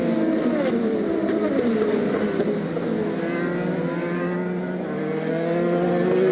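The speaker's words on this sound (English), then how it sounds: "And here comes Juan Pablo to the final corner with the checkered flag ahead" An IndyCar race car rounds the final corner of the St. Petersburg street circuit, its engine a loud, steady, high-pitched drone with shifting tone as it carries through the bend.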